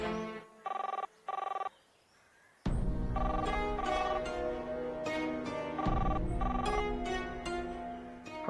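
A telephone rings unanswered in two short, evenly spaced bursts, followed by a pause. A swell of dramatic background music from a Marathi TV serial then takes over.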